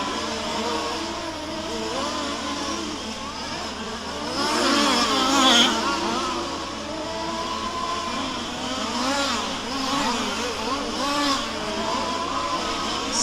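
Race cars, among them a black and white Honda Civic, roar around a track at a Grand Prix A main, engines droning and rising in pitch as cars pass, moderately distant and continuous, with one louder swell midway.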